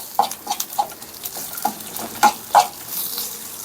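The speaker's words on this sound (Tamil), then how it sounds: "லாஸ்ட்டாக ஜீரகம் போட்டு கிண்டி இறக்க வேண்டியதுதான்" A spoon stirs roasted fish curry masala with cumin in a pan, making a series of short scraping taps at an uneven rhythm, close and moderately loud over a faint background.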